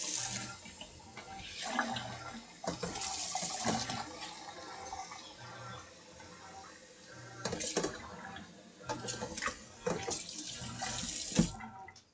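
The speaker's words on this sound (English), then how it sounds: "Put some water and soap in these." Water runs from a kitchen tap while dishes are rinsed with soap and water, an uneven splashing flow with clinks and knocks of dishware, fairly quiet and close.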